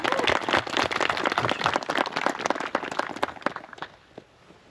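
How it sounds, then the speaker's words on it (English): Audience applause inside a church after a presentation at a service, a dense close burst of many hands clapping that holds for several seconds, then thins out and fades away. "another round of applause for that presentation"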